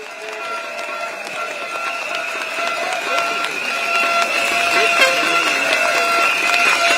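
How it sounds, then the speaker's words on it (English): A large outdoor crowd applauds at a PAP election rally in a Bedok stadium, a steady wash of clapping and cheering that swells slightly over several seconds with a sustained tonal hum running beneath it. "let him hear your applause, everybody"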